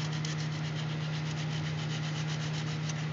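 Steady, continuous hand sanding on teak wood aboard a yacht, a dense rasping scrub with a faint rhythmic back-and-forth pulse, close and even throughout with a low hum underneath and no talking.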